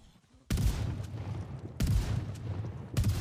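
Three heavy shotgun blasts in a video game, each a sharp broadband crack with a booming low tail, spaced about a second and a quarter apart, loud and close with no talk over them.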